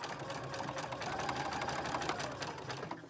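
A sewing machine runs steadily at close range while it stitches a pinned set-in sleeve into an armhole. The needle makes a continuous rapid whirring patter for the whole stretch.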